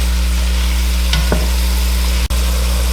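Red beans and rice cooking in a pan on medium-high heat, a steady loud sizzle with a brief stir or scrape partway through and a sharp knock near the end, no voices.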